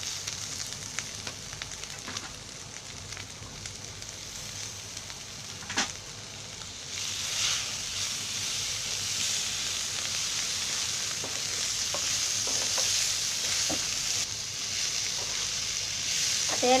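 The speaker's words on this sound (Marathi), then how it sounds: "आता याच्यामध्ये टोमॅटो टाकते." Tomatoes and spices fry in an oiled pan for chicken keema, a constant crackling sizzle that swells louder midway, with occasional spoon knocks and scrapes from stirring.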